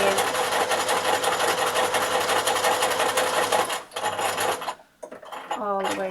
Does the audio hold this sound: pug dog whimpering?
no